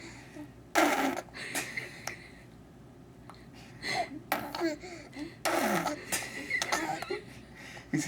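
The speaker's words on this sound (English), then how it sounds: "Is she disturbing your fart noises?" A young child blows wet raspberry fart noises with his lips, several sputtering bursts of varying length spaced irregularly and heard up close in a quiet room, with no clear talking.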